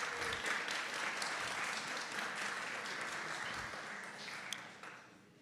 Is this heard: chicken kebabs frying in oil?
no